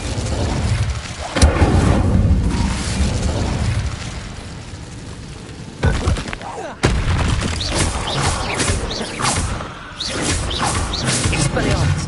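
Casting the Incendio fire spell in Hogwarts Legacy brings loud, rumbling fiery bursts and crackling blasts, with sharp impacts near the middle and continuous roaring noise throughout.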